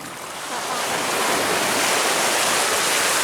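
Ocean waves on a beach during family fishing in Aceh, a loud close roar of surf that swells up and then holds as a dense continuous wash, with no talking.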